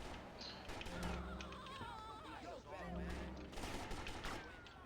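Rapid gunfire bursts from an automatic weapon in GTA Definitive Edition, rattling in clusters over a busy game mix with music and effects, with a voice speaking over parts of it.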